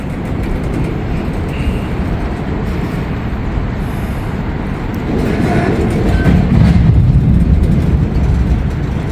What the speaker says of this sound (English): Well, looks like they're gonna stop. I see the end of the train.